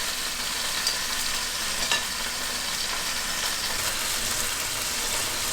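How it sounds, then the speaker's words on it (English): Onions sauté in a hot pan for chicken and vegetable soup, giving a steady, even sizzle and crackle throughout with no voices. "I'm just going to toss the onions to the side there so that these can saute for a little bit"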